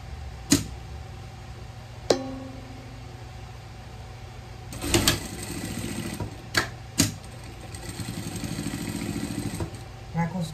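A sewing machine stitches vest material in short separate bursts and then a longer steady run, the quick mechanical clatter close and fairly quiet, with sharp clicks between runs.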